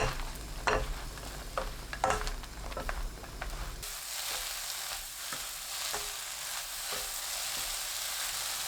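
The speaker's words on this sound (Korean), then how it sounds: "팬에 가지, 식용유 3큰술 넣고 센 불로 볶습니다." Diagonally sliced eggplant, cut about half a centimetre thick, is stir-fried in three tablespoons of cooking oil over high heat. A few clattering stirs lead into a loud, steady, continuous sizzle.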